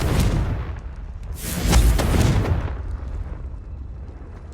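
A Confringo fire spell explodes in Hogwarts Legacy, a loud close blast with a broad crackling roar that peaks and then fades into a rumbling tail.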